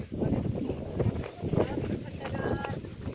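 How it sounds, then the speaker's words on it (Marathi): Strong wind buffets a microphone outdoors on a farm, a heavy low rumbling roar that surges in gusts throughout. "वारा एकदम भारी आहे."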